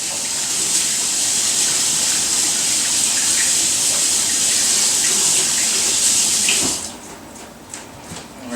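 Running tap water gushes steadily into a sink while hands are scrubbed beneath it, loud and continuous before abruptly dropping to quieter splashes and drips near the end.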